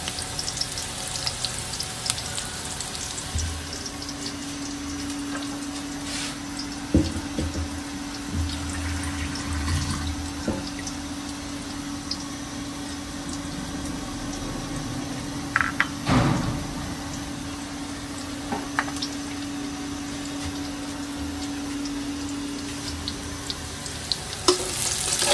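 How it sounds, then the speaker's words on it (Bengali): Onion frying in a pan, a steady low sizzle running throughout with occasional clinks and brief water or tap sounds in a home kitchen. "পেঁয়াজটা ভেজে তারপরে মশলাটা দিয়ে দেবো"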